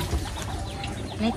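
A chicken clucks briefly amid busy background noise, with faint activity around it.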